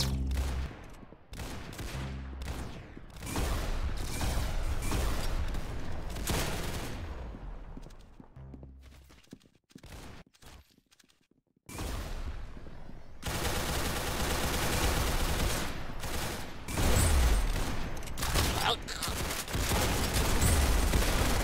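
Gunfire fills a Roblox Arsenal match with loud, rapid automatic bursts and single shots that keep going nearly without a break, stopping only briefly in the middle.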